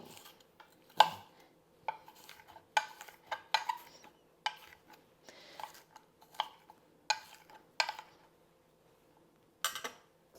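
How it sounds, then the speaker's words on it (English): Onions being chopped with a knife on a cutting board in a home kitchen, a string of sharp, irregular knocks and taps, some sharper than others, close up and with no talk. "Now we're going to chop our onions."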